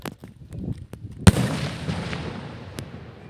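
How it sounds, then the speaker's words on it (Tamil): Sharp bangs from Sivakasi firecrackers pop at irregular intervals, one loud crack standing out, followed by a crackling, hissing burst that trails off, with scattered pops in the distance. "நல்ல பட்டாசு வச்சுருக்கீங்க."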